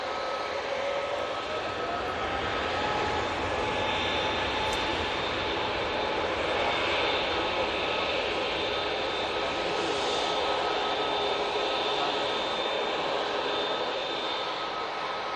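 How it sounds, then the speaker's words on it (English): An Airbus A320neo jet departing for London Heathrow drones steadily and fairly loud, its engine whine carrying several sustained tones over about fifteen seconds, with no one talking. "A320neo going back to London Heathrow"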